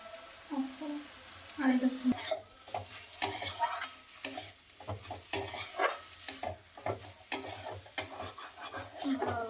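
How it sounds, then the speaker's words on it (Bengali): Cabbage momo filling with egg being stirred in a hot pan, with scraping strokes and crisp spoon clatter over a steady sizzle, the scrapes coming in an irregular rhythm, close and fairly loud. "নেড়ে নিচ্ছি।"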